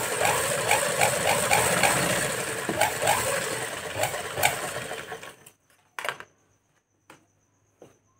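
A sewing machine stitches a fabric strip in a fast, rhythmic whirring patter, heard up close for about five seconds before stopping abruptly, followed by a few isolated clicks and thumps in near silence.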